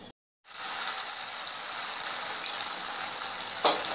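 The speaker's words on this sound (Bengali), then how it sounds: "এইভাবে চুবিয়ে নিয়ে আমি তেলের মধ্যে দিয়ে দেব" Batter-coated kakrol stuffed with filling goes into hot oil after a brief silence, bursting into a loud, steady sizzle that continues with a small crackling flare near the end.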